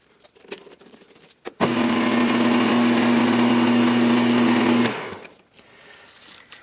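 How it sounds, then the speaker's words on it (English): A power drill suddenly whirs to life, boring through a plastic bass guitar knob, runs at a steady high-pitched buzz for about three seconds, then winds down and stops. "I just drilled until I went all the way through the plastic"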